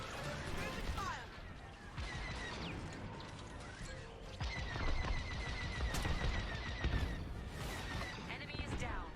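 Rapid starfighter blaster fire in Star Wars: Squadrons, dense bursts of laser shots with mechanical clatter and explosions, loud and continuous, with faint game voices underneath.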